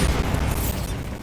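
A Bombarda blasting spell from Hogwarts Legacy goes off as one sustained, booming explosion, a loud rumble heavy in the lows that holds steady for about a second, with no voices over it.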